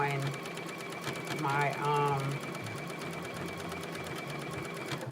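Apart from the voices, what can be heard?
sewing machine stitching a cut-out top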